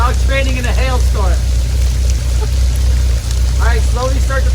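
Hail falls during outdoor dog training at an off-grid wilderness camp, a dense steady patter filling the background while people talk over it.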